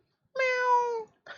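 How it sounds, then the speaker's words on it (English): One clear, drawn-out meow from a nearby cat, loud and alone in the quiet, followed by a brief faint sound at the end. "We had our little Ocelot kitties join us."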